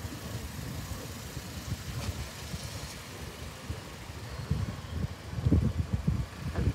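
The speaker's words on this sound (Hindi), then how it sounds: "अब ये है चार तरफ से गाड़ियाँ हैं यहाँ" Cars and motorcycles crowd a busy street on all sides, their engines making a steady low rumble of traffic that swells louder toward the end.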